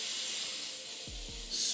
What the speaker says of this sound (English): Spray the rose.